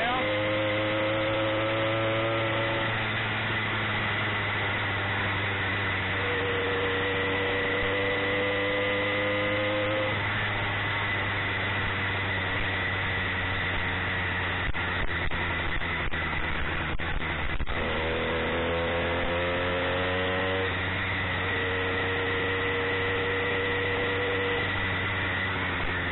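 A warmed-up two-stroke engine burning a 40 to 1 fuel mix runs with a constant buzzing hum, its pitch rising and falling smoothly a few times as the throttle changes.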